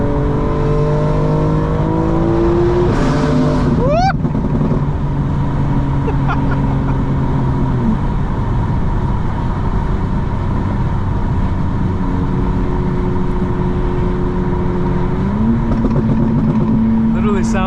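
A 900 hp 2025 BMW M4 Competition accelerates hard, its engine droning steadily at close range with rising and falling pitch as it pulls through the gears, loud throughout.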